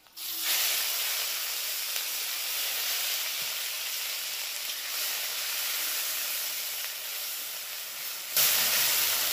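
Onion paste hits hot oil seasoned with panch phoron, for a light katla fish curry with ridge gourd: a loud, steady sizzle and hiss runs close and unbroken for about nine seconds, flaring briefly near the end, with no talking.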